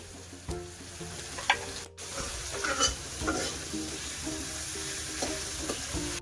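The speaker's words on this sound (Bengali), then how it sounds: "টমেটোটা এভাবে সুন্দর করে ভেজে নেব।" Tomatoes frying in a pan for a vegetarian dish, a continuous soft sizzle broken by scraping stirs and a brief dropout, close but fairly quiet, with no voices.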